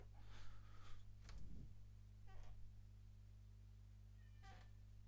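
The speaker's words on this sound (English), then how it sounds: "I can hear my cat, but I can't tell where he is, if he is outside or if he's behind the door." A house cat meows a few times, brief harmonic calls spread across the stretch, faint and somewhat distant over a steady low mechanical hum.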